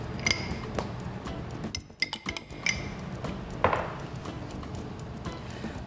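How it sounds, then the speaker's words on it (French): Whipped topping and cream being mixed in a bowl, with clinks and taps of a utensil against the dish under steady kitchen noise. "on commence à mélanger la crème fouettée et la crème au début"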